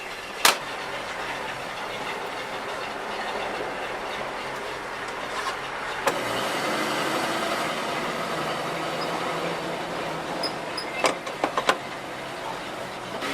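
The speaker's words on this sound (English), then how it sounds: "Tires are a little noisy, but we're going to get rid of them." A 1974 Ford Bronco with a rebuilt carburetor drives on the road, its noisy tires producing a quiet, steady rumbling drone with a few faint knocks.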